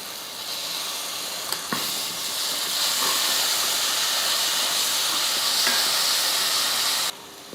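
Cinnamon, cloves and two large onions fry in hot oil in a pan. A loud, steady sizzle and hiss carries on throughout with a few faint clinks, then it drops off suddenly near the end.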